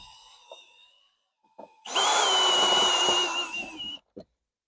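A power drill backing small screws out of a car body panel on a DeLorean, with a short trigger blip followed by a steady, close, whining two-second run.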